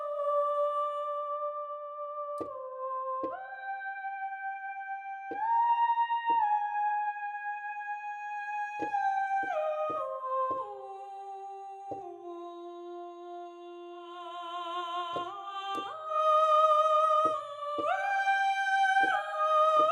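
A solo soprano voice from a sampled choir instrument, recorded in a chapel in Seattle, sings clear, sustained held notes one after another in a slow melodic line, close and clean with no other sounds.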